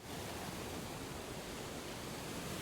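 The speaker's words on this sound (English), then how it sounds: "I heard vicious sounds of crashing waves and roars of an all-crushing storm." Crashing waves and a roaring storm in the video game Limbus Company, a steady, dense wash of surf and wind noise, faint and continuous with no talking.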